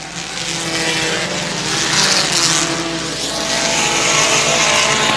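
Dirt modified race cars roar around the Airborne Speedway oval in Plattsburgh, New York, a dense, loud, continuous engine howl that swells as the pack passes, with no talk heard.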